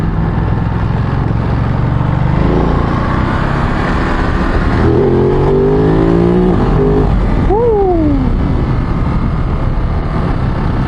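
A Ducati Monster motorcycle in sports mode pulls hard under throttle, its engine a loud, steady roar heard close from the rider's position with heavy wind rush. The tone rises and falls through the revs as it accelerates.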